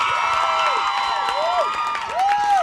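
A crowd of fans at a cast interview event for the series American Gods cheers and shouts, with rising whoops and a swell of noise toward the end, loud and close.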